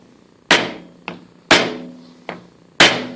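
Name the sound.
tapping on a wooden peg to drive a shaft out of a pulley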